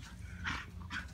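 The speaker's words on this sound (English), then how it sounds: "two dogs fighting" Two dogs play fighting let out two sharp yelping barks about half a second apart, close by and fairly loud, with a low rumbling background and no voices.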